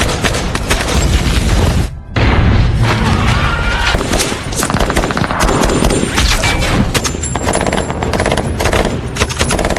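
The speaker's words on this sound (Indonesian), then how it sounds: "Kali ini lebih ganas dan lebih besar dengan RPG dan bom yang lebih besar." Explosions and gunfire from the war film 13 Hours, with RPGs and bombs, in a loud, dense barrage of booms and rapid shots that continues almost without a break, apart from a short gap near the start.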